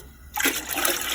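Water pours into a cooking pot in a home kitchen, with a sudden gushing splash after a brief quiet moment, then a steady, close, fairly loud stream.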